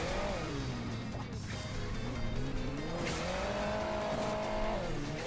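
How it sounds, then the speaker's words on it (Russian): A motorcycle engine in Hill Climb Racing 2 revs steadily, its pitch dipping and then climbing again, as a continuous moderate-level whine. "О, мотоцикл, как ты видел, шпарит."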